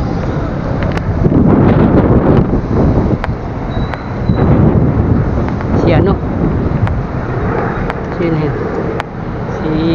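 Strong wind buffets the microphone in heavy rumbling gusts during a fishing trip, with faint voices talking underneath.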